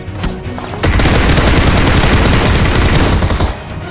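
Rapid automatic gunfire rattles through a video game shootout, a brief burst followed by a long, loud, continuous barrage of shots that fades out near the end, with no talking.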